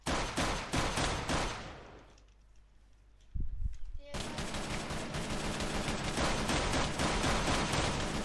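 Automatic rifle fire crackles in rapid bursts within a video game, loud and dense, breaking off briefly into a lull before resuming in sustained volleys, with a player talking over the shooting.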